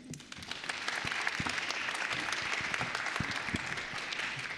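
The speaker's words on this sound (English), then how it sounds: "please give a lovely hand of applause to our moderator and our panelists." Audience applause for a moderator and panelists at an investing conference panel, steady, dense clapping throughout, fairly loud and close, with no talk over it.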